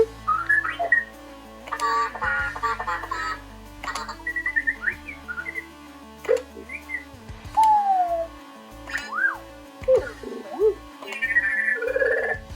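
A BD-1 remote control toy droid emits a rapid string of excited electronic chirps, warbles and whistling beeps, bursts of synthetic sound with short gaps and occasional clicks.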